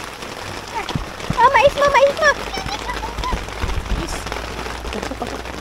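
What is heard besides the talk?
heavy rain while camping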